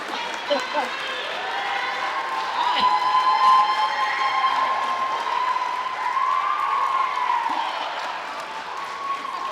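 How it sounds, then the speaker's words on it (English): Audience at an elementary school teacher award ceremony claps and cheers steadily for several seconds, a dense, sustained wash of applause with voices mixed in. "Let them clap. Let them clap."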